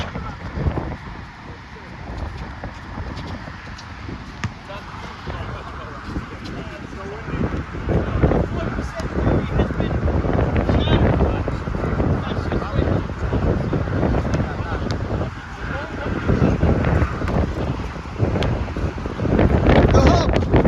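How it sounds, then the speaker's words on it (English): Strong gusting wind buffeting the microphone at an outdoor shore-side basketball court, a loud rumbling roar that builds and surges throughout, with people talking under it. "So much wind."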